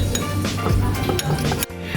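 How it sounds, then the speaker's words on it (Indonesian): A utensil clinks and scrapes against a bowl in quick, irregular strokes, close up and steady for a couple of seconds. "Setelah itu aduk sampai merata."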